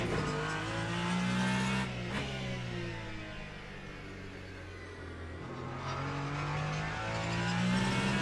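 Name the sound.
Ferrari 499p race car at Fuji, Le Mans Ultimate video game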